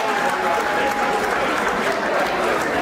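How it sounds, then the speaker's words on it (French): Audience applause for a performer at a Bamougoum association gala, a steady dense wash of clapping at moderate loudness throughout, with some voices mixed in. "On applaudit encore pour notre artiste."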